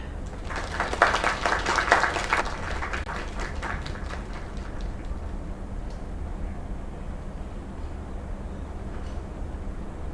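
Bar audience claps for a performer, a dense burst of applause in the first couple of seconds that thins into scattered individual claps and fades to room murmur.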